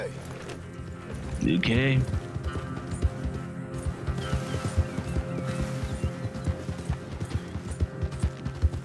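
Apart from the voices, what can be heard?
horse in Red Dead Redemption 2 video game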